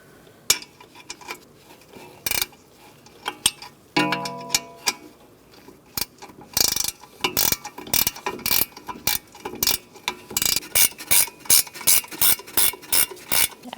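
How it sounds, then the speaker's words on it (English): A ratchet wrench tightens a rear brake caliper bolt on a 2012-2019 Fiat 500, giving close metallic clicking in scattered bursts, then quicker and steadier rhythmic ratcheting toward the end. "I'm going to get my ratchet wrench and I'm going to tighten that down"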